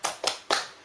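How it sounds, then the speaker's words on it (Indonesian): Rhythmic claps from children in a third-grade classroom doing a group cheer clap, three sharp bursts in quick succession, fairly close and moderately loud. "kita tepuk semangat terlebih dahulu yuk"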